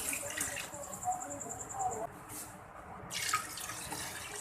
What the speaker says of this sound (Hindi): अब मैं इसमें पानी डालूँगी